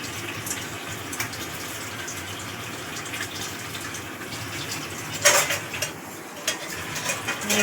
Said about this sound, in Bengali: মিক্সারটা ধুয়ে অল্প একটু জল